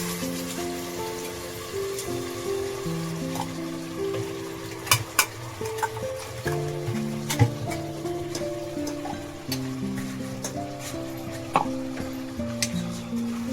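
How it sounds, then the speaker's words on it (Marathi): Spice masala roasting in hot oil with curry leaves, sizzling steadily while stirred, with scattered sharp ticks and scrapes from the spoon, all under continuous background music. "आपला मसाला ना अर्धा भाजत आलाय"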